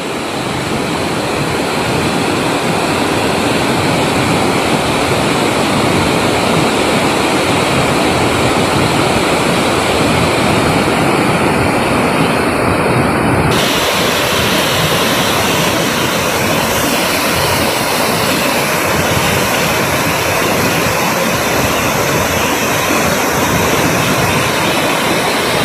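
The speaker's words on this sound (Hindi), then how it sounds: "और जो वाटरफॉल कांगेर धारा वाटरफॉल है वो ऐसा प्रतीत होता है ऊपर से।" Kanger Dhara waterfall in Kanger Valley National Park, India, roars as a loud, steady rush of falling water that fills the whole stretch, with a slight shift in tone midway and no voices.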